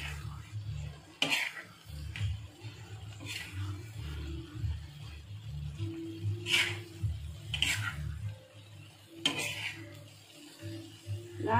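Goat brain gravy being turned over and over in a pan, with soft scraping stirs and occasional metallic clinks of a spoon against the vessel, quiet and close under a low background hum.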